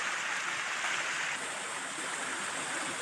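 Steady broadband rush of a waterfall in a Kashmir valley, continuous and fairly close, a dense roar of falling water with no voices over it.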